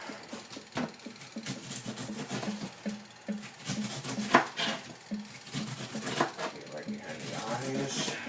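A knife that is not very sharp cuts fruit into quarters on a board, giving repeated dull chopping knocks and utensil clatter over a steady room background, with brief voice sounds mixed in.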